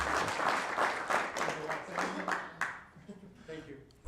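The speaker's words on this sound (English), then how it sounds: "Please give a round of applause." Audience applause at a city council meeting following staff introductions, a steady wash of clapping for about three seconds that thins out toward the end, with a voice speaking faintly underneath.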